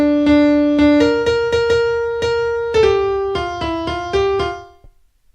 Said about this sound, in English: And when we do this to Home on the Range, it sounds like this.